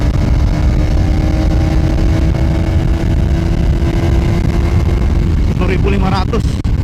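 A KTM Duke 250 motorcycle engine held at high revs, a loud, steady buzzing drone with a rising harmonic whine near the end, heard up close with wind noise.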